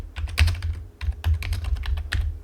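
Quick bursts of keystrokes clatter on a computer keyboard, close and clear, in short uneven runs with brief pauses between them.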